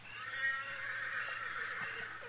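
A faint, distant horse whinny carries over quiet background, thin and drawn out, with no one speaking.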